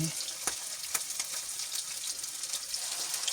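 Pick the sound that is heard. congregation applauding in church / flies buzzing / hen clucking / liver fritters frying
liver fritters frying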